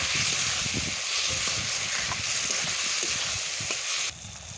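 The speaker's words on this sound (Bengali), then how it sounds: "জিরে ধনে দিয়ে বেশ কিছুক্ষণ কষি নেওয়ার পর ওর মধ্যে দিয়ে দিলাম ওই কাংড়ার ঘিটা" Crab fat sizzling in a pan with cumin and coriander, a steady close frying hiss with stirring scrapes and spatters, dropping quieter near the end; no talking.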